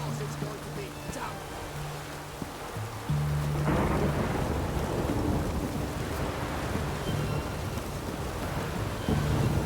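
Rain pours steadily in The Witcher 3, a dense hiss that jumps louder partway through as thunder rumbles low and long, with soft low musical tones early on.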